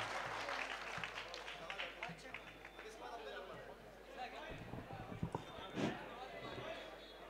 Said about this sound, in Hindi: पुरजोर तालीम इस्तकबाल कीजिए जनाब जावेद इलाहाबादी साहब।